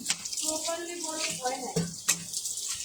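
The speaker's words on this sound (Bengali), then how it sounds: "আমি ধুয়ে ফেলতেছি এখন" A garment is washed under a running tap, giving a faint, steady splash of water with brief sharper splashes, while someone talks over it.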